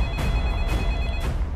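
A telephone rings in a household setting, sounding three clear repeated bursts of electronic ringing at a steady rhythm, fairly close and loud over a low background hum, with no talking.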